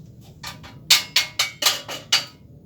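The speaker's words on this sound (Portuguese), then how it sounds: "Ele encaixando nessa peça, eu posso pegar o meu martelo" A hammer taps a sheet-metal panel set on a bench dolly turned on a metal lathe, about six sharp bright strikes in an even rhythm after a few softer knocks, close and fairly loud.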